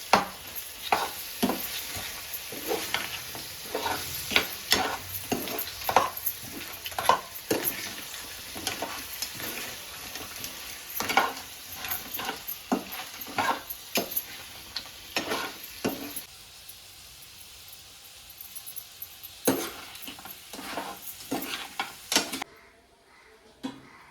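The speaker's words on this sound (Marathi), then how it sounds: "गरम मसाला हळद आधी आधी टाकले आपण. आता थोडीशी टाकू. ते परतून घ्यायचं." Garam masala and turmeric sautéed in a pan for an Aagri Koli style crab curry, a soft steady sizzle with repeated sharp scrapes and clinks of a spoon stirring against the pan, pausing briefly near the end.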